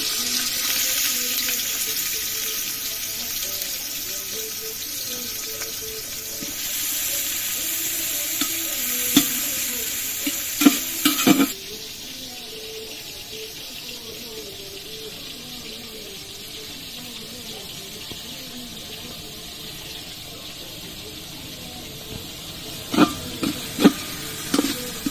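Chopped onions and chilies fry in soybean oil in a cooking pot. A loud, even sizzle runs for about eleven seconds and then drops to a softer hiss. A few brief clatters of stirring come near the end.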